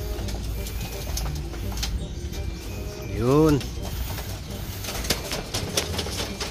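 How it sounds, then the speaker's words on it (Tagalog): Racing pigeons at a wing stamping session, heard as a brief rising coo-like call in the middle over constant rustling and flutter, with people talking throughout. "gutom na yung mga ibon natin"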